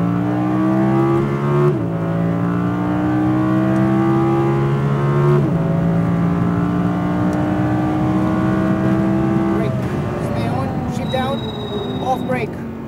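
An Audi R8 V10 RWD pulls hard around the Speed Vegas race track, its engine whining loudly and climbing in pitch through the gears with sharp shift breaks, while a voice speaks over the engine.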